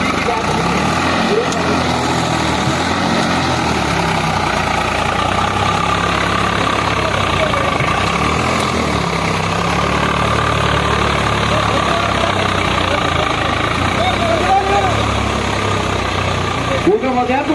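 A Sonalika Maharaja or Swaraj 744 FE tractor engine idles loud and close, a steady, unbroken diesel rumble lasting throughout with faint background voices.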